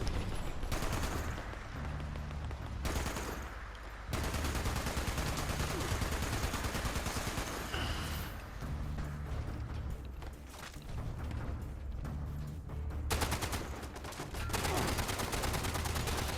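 Gunfire in the video game Fallout 76 during an assault on an Enclave base in Ohio, with dense bursts of automatic fire and booms continuing almost nonstop, loud and sustained with brief lulls.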